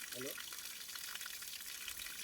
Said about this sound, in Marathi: तिकडनं वरतून येते पाणी आणि नॅचरल पाणी आहे